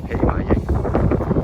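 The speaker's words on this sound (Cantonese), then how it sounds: "好大風啊呢度" Strong wind buffets the microphone at Cheung Tsui on a remote hillside, a loud continuous roar with gusting surges, and a person's voice is heard through it.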